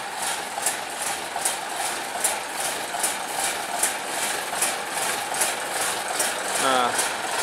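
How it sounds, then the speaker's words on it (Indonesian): Several diesel locomotives, among them Hokuriku units, idle together in a sugar mill yard, a steady mechanical drone with faint rhythmic ticking over it, fairly loud and continuous. "ini banyak lokomotif diesel yang mau dipersiapkan untuk keluar berdinas ke kebun"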